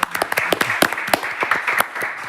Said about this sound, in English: We'll give you applause now, Kenyon.